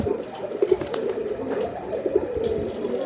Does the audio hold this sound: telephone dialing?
no